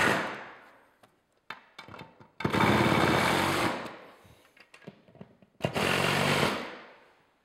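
Bursts of a power tool tightening the rail clamps on a Wagner Solar TRIC dual parallel solar mount, two long loud whirring runs separated by short clicks and taps of hardware.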